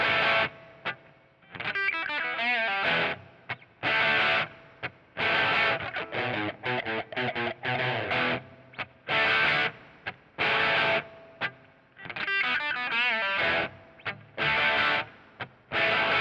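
Heavily distorted electric guitar plays in choppy bursts and chugging riffs with short gaps between phrases, loud and upfront with no talking.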